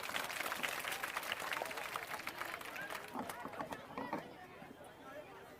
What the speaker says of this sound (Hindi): प्रशांत जी के लिए एक बार जोरदार ताली बजाइए आप सभी लोग